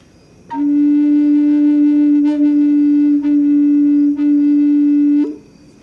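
Wind blows through a flute, producing a single long, steady flute-like tone held for about five seconds, breathy and unwavering, with faint flickers partway through, alone with no voices.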